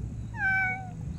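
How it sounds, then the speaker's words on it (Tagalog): A single short cat meow, fairly clear and close, rising then falling over about half a second, heard outdoors in Magallanes, Cavite, against a low background hum. "Ito mga kayoyo, pusa dito sa Magallanes mga kayoyo."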